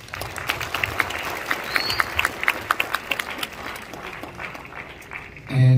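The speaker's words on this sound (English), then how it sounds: "I want everyone to give themselves a big round of applause, please." A graduation audience claps together, steady applause with a few sharper individual claps standing out, fading toward the end before a closer bump.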